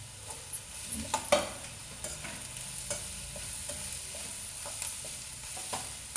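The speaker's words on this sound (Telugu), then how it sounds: "ఇప్పుడు పచ్చిమిర్చి ముక్కలు కూడా వేసేస్తున్నాను" Green chili pieces fry in a simmering curry while a spoon stirs through the pan, a soft continuous sizzle with scattered scrapes and taps, close up and without voices.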